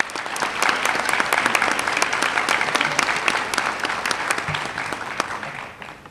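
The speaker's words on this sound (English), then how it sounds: "Let's give him another round of applause." An audience at a school banquet bursts into steady, dense clapping that carries on for several seconds before gradually thinning and fading out.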